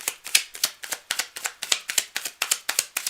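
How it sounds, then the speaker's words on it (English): Playing cards are riffled and shuffled over and over in a steady rhythm of crisp, close-up bursts, with no voices. "I'm just going to shuffle the deck and clean it up"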